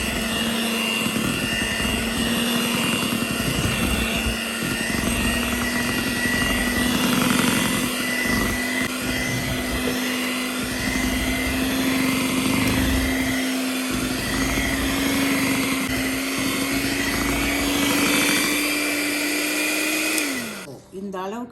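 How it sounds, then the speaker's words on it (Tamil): An electric beater whirs steadily through red velvet cake batter, a loud continuous motor drone with a slowly rising pitch that runs for about twenty seconds before winding down abruptly at the end. "இப்போ பீட்டரால் கொஞ்சம் பீட் பண்ணிடலாம்"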